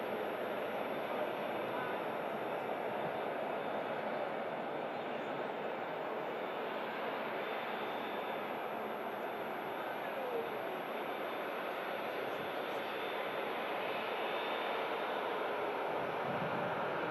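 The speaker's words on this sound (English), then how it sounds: "You can just hear the whistling of the Emirates A380 as it approaches us here at the visitor park." An Emirates Airbus A380 approaches the airport at Manchester, its engines giving a steady broadband roar with a faint high whistle, distant and continuous throughout.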